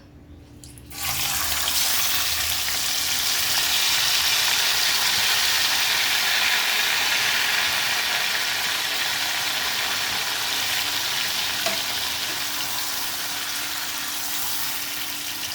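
Marinated mutton drops into hot oil and breaks into a loud, steady sizzle that starts suddenly and keeps up, a dense hiss filling the kitchen with no talking.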